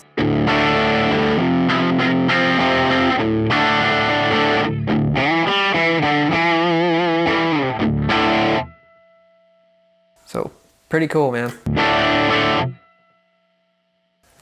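An electric guitar plays through a Fender Mustang Micro Plus headphone amp set to a tube screamer style overdrive: distorted chords and single-note runs in loud bursts, separated by brief silences, ending in a few short stabs.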